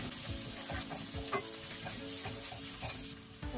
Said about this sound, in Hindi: अभी हम मीडियम टू हाई फ्लेम पे सब साथ में फ्राई करेंगे 3 से 4 मिनट।